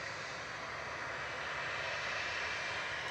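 Ryanair flight 5476 to Verona at Manchester Airport produces a steady, fairly faint wash of airliner engine noise, a continuous broadband roar with no break over a few seconds.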